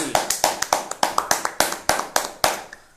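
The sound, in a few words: audience applause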